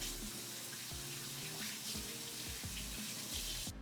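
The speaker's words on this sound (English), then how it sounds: "wash my hands real quick." Water runs steadily from a kitchen tap while hands are washed beneath it, a soft continuous stream with small splashes, fairly quiet and with no voices.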